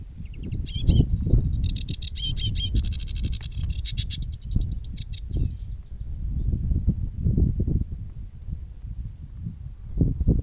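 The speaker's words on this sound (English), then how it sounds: "There's this lovely bird song just here." Lively birdsong trills and chirps ring out among rustling and low wind or handling noise on a pilgrimage walk in Glastonbury, strongest in the first half and fading to faint calls later.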